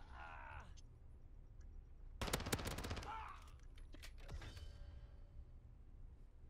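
Gunfire in a video game: a sharp, loud burst of rapid cracking shots about a second long, followed by a fainter rattle and scattered clicks against a low background hum.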